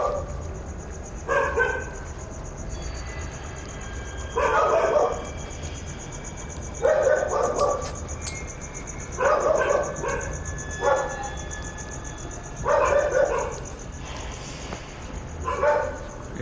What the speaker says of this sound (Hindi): साथ वाले घर में भी कुत्ता है, उसकी आवाज़ थी